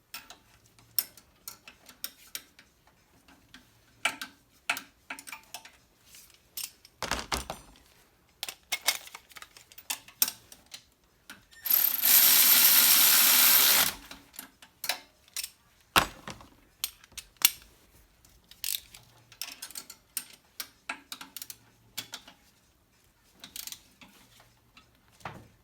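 Mechanical ratcheting and tool clicks from a wrench loosening a 19mm oil feed line fitting during a turbo swap on a Toyota MR2 3S-GTE gen 5 engine, a series of short close ticks with one sustained louder burst midway.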